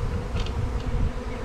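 A honeybee swarm gathering around a hive lid baited with lemongrass, a continuous close buzzing hum of many bees with a few louder passes near the microphone.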